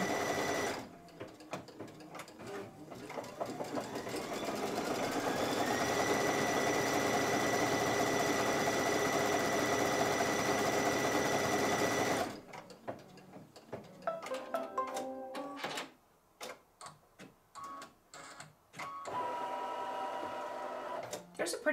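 A sewing machine with a 75/11 needle and 90-weight white bobbin thread stitches a quilt block in a steady, loud whirring run for several seconds, then stops and restarts in short bursts.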